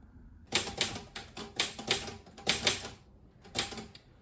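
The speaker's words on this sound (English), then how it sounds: "I was just typing something up about ancient Greece." A typewriter clacks close by in quick bursts of keystrokes, separated by short pauses, with a final cluster after a brief gap.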